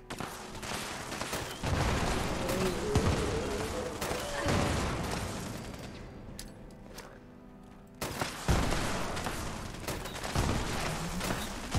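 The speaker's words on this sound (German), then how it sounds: "Na, komm, schmeiß Granate." Grenade blasts and rapid gunfire from Fallout 76 gameplay, a dense, continuous barrage of booms and shots with a brief lull midway before the firing picks up again, loud throughout.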